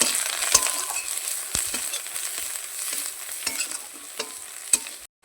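Pieces of local crab fry in oil with a little turmeric, sizzling steadily up close. A few sharp clacks of a utensil and scraping strokes sound before the clip cuts to silence at the end.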